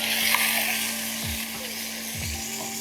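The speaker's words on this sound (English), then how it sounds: "you can really hear that kind of sizzle noise" Steady, crackling sizzle of steak frying in an oiled pan, close and continuous, with a few soft scraping thumps.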